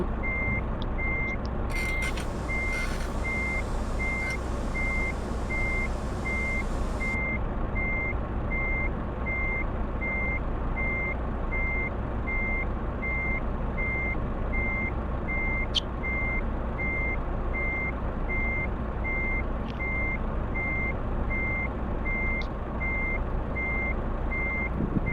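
Reverse alarm of a truck in the Truck Simulator video game, a steady, evenly spaced electronic beep repeating for the whole stretch over a constant engine drone, with a brief burst of broadband noise early on.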